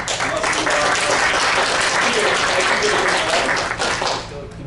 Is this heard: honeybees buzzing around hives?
no